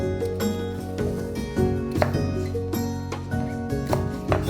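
A knife chops green onion on a board in a few soft, quick taps, faint and partly masked by a steady background hum and music.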